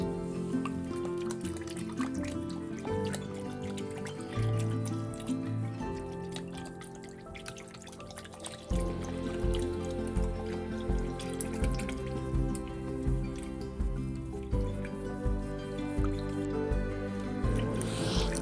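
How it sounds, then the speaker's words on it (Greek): Sourdough starter stirred and dissolved in water with a wooden utensil while making a crusty wholemeal loaf, giving steady wet squishing and dripping sounds that build into a regular rhythm of close, moderately loud strokes. "Ανακατεύουμε το προζύμι με το νερό να διαλυθεί καλά."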